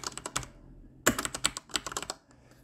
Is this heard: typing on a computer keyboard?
yes